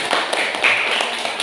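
A classroom of students clapping briefly together, a dense burst of hand claps from a nearby group with no talking over it.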